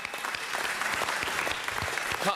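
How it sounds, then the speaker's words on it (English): A room full of people applauds at a city council meeting, with steady, even clapping throughout and a few louder hand claps standing out near the end. "Just give him a round of applause."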